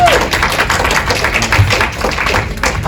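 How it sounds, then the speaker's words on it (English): A lecture-hall audience applauds a presenter at an author event, a steady wash of clapping hands filling the room at moderate loudness with no break. "Let's give him a big round of applause."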